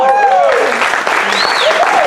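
Church congregation claps in a short, loud burst of praise, the applause blended with sung or shouted voices and a sustained tone over the top.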